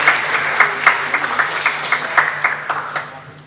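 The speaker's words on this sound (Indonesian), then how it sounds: "Boleh beri tepuk tangan yang meriah Bapak Ibu." Applause from an audience at a memorandum signing ceremony between Indonesian institutions, moderately loud clapping with scattered sharper claps, gradually thinning and tapering off toward the end.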